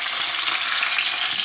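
Small rotan fish fry in a pan of oil, giving a loud, close, continuous hiss and sizzle with fine crackling throughout and no voices.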